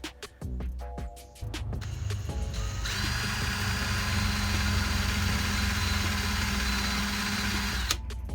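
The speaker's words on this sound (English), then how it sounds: "find a matching drill bit that I can use to drill the hole" A power drill drilling a hole in a knife handle for a pin whirs steadily for several seconds after a few short clicks and bumps, a loud continuous motor whine close to the microphone, then stops abruptly.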